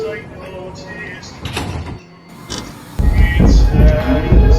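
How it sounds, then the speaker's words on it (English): Subway train doors close on an R211T G train in the OpenBVE simulator, with a chime followed by a rising rush of mechanical door and car noise, while an announcement voice runs through. "Stand clear of the closing doors,"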